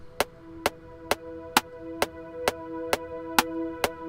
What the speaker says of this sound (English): the pad now is coming out of the left and that the click is coming out of the right